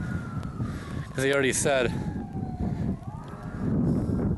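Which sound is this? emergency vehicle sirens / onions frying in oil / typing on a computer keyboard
emergency vehicle sirens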